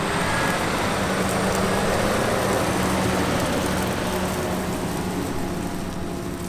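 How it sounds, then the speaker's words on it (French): The roughly 16-litre Mercedes-Benz V8 of a Holmer Terra Variant carrier vehicle at an agricultural contractor roars close and loud, a dense, steady mechanical rumble that holds throughout. "Le son du puissant moteur V8 Mercedes-Benz de près de 16 litres de cylindrée est impressionnant"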